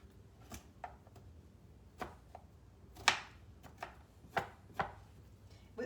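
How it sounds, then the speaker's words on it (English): Thin, bumpy skin being scraped off a piece of fresh ginger held flat on a cutting board: a series of short, crisp strokes at uneven intervals, each close and fairly loud, with no talking. "Put the flat side of the ginger down on your cutting board, and then you just rub along the side of the ginger"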